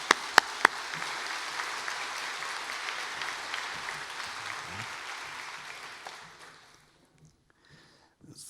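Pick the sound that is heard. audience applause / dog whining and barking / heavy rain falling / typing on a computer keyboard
audience applause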